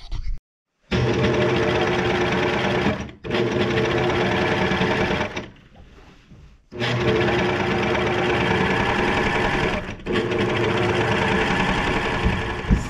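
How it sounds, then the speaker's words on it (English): Serger sewing machine overlocking a frayed fabric edge with its blade locked, a loud close rapid stitching buzz in long runs broken by brief pauses, no talk. "so I'm just going to serge all the way down here just to keep these frayed edges a little more intact"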